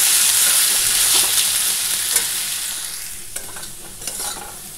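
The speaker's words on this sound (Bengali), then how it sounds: "হয়ে গেল আমার আলু ভাজা" Potatoes fry in a pan with a steady, close sizzle and a few scraping stirs, the hiss easing slightly toward the end.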